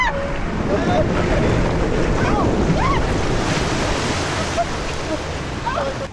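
A log flume ride pushes through water with a constant loud rushing and splashing roar, overlaid by wind noise and people shouting and whooping close by.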